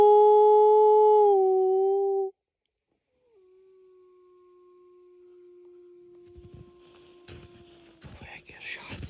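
A lone wolf in Western Montana howls a long, sustained wail that starts loud and strong, breaks off, then trails into a fainter drawn-out note as brushing and rustling noises rise toward the end.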